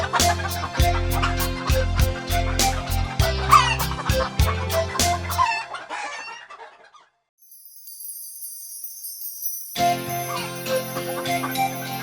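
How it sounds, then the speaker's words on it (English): A cartoon hen clucks in a nursery rhyme song, a quick run of clucks over bright musical backing, followed by a short silence and then a high tinkling jingle. "9, 10, cluck, cluck, cluck. 9, 10, a big fat hen."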